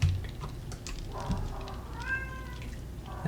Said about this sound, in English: That's my cat squealing,